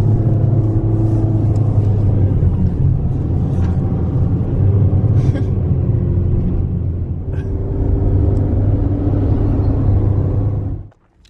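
A car driving hard up a steep, winding mountain road in Saudi Arabia, its engine a steady, loud, close droning rumble that holds throughout before cutting off abruptly at the end.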